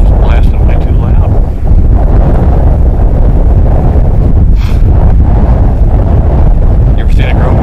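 Strong wind buffeting the microphone outdoors on an open coyote-hunting field, a loud continuous rumble with gusty surges, and a voice faintly speaking in the background.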